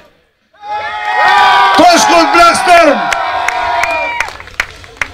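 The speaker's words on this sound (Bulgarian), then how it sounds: "Аплодисменти за капитана от Вагабонц! Това е хубаво, аплодисменти стават все по-силни за мен." A crowd at an event cheers and whoops loudly for a Vagabonds team captain, a sustained roar rising from quiet and then easing off, with a voice announcing over it.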